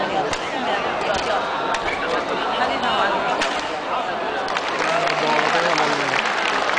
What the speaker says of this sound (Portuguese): Os aplausos foram para a Alex.